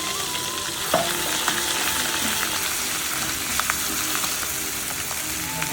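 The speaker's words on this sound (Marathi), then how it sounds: "आता आपण बॅटर केलेलं तेव्हाचं मिश्रण याच्यामध्ये टाकूया." A blended paneer masala mixture sizzles steadily in hot oil with cumin, mustard seeds, red chilli, bay leaf, cardamom and cloves, a dense continuous frying hiss with a few light clinks of stirring.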